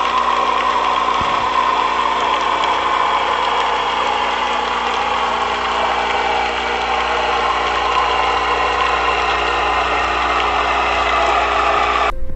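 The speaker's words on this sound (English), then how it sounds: "Every engine makes a noise, every prop just turning in the water and having the resistance on the blades, it's incredibly noisy" Underwater recording of a boat's engine and turning propeller: a steady, loud, unbroken drone with a dense broadband churn and a persistent mechanical whine, continuing alone without pause.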